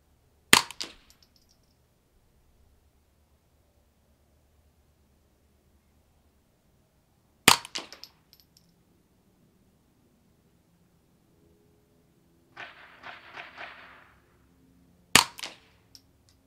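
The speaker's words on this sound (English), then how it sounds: "Bad shots." A Ruger 10/22 .22LR rifle fired at targets outdoors: three sharp, isolated cracks spaced several seconds apart over near silence, with a short rustling scuffle between the second and third shots.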